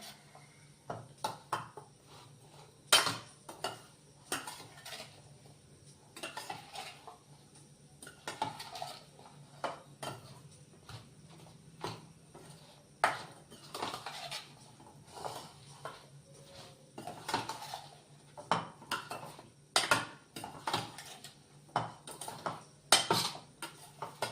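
Spoon clinks and scrapes repeatedly against a bowl as ingredients for Gujarati-style raita chillies, with oil and mustard seed, are stirred together, an uneven run of close, sharp taps and clatters with no talk.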